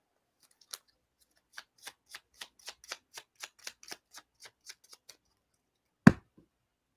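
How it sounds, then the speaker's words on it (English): Playing cards shuffled by hand in a riffle, with a rapid run of about a dozen crisp, evenly spaced flicks that ends in a louder single snap as the deck is squared. Close and clear, with no talking. "Max, do you want me to shuffle these cards or not?"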